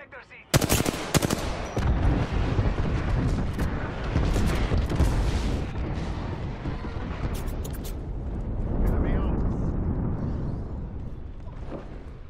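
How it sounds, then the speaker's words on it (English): Heavy gunfire and booming airstrike explosions in Apex Legends, starting abruptly with a sharp blast and continuing as dense, loud rapid fire and rumbling detonations throughout, with brief voices in the mix. "Firing! Calling the airstrike."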